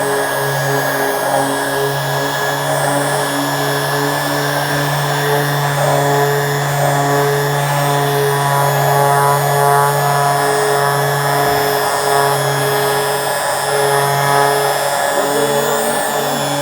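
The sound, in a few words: DA sander sanding MacBook Pro case with 320 grit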